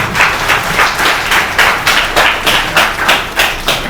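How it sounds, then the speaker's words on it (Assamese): An audience at a memorial lecture claps, steady rhythmic applause with evenly spaced beats that sounds close and fairly loud throughout. "মই ৰোহন কুমাৰ দাসক লৈ মূলত নতুন প্ৰজন্মৰ অসমীয়া ছাত্ৰ ছাত্ৰীক এটা হাত চাপৰি মাৰিবলৈ অনুৰোধ জনাইছো।"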